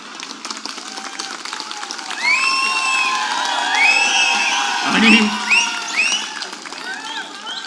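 A large crowd at an outdoor political rally in Girgaon cheers, whoops and claps, with shouts and whistles rising and swelling over a sustained roar of applause.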